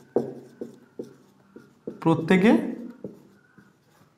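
A pen or chalk taps and scratches out the answer to a math problem in short strokes, with a burst of quick scribbling midway, while a teacher speaks over it.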